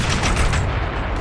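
Rapid gunfire in a battle in the military shooter Operation Flashpoint: Red River, a dense, continuous burst of close shots with no pauses through the short stretch.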